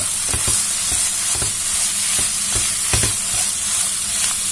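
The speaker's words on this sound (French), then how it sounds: "On va mélanger tout ça et on va laisser cuire encore" A spoon stirs a sizzling gratin mixture with olives in a pan, close and fairly loud, with a steady frying hiss beneath repeated scraping strokes at an uneven rhythm and no talking.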